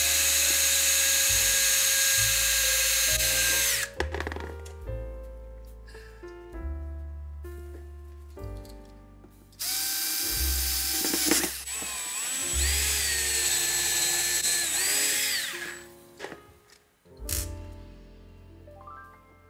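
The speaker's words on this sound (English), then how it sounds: "attach it with a screw nail on each side of the wall" A power drill driving screws through drywall into a wooden support board behind the wall, with whirring bursts that rise and fall in pitch and brief pauses between them, close and loud.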